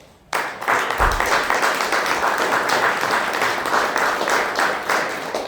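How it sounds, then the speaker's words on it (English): Audience applause at a first-anniversary political gathering of a Rhode Island league, breaking out suddenly after a brief quiet and holding as steady, dense clapping to the end. "I want to once again give yourselves a round of applause"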